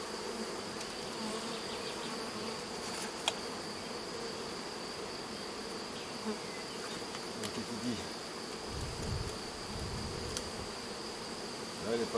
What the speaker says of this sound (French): il y a pas mal d'abeilles là-dedans normalement.